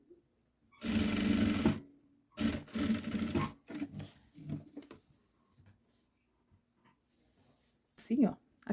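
A sewing machine stitches fabric for a boy's children's outfit in several short bursts of close whirring, separated by quiet gaps with light handling noises.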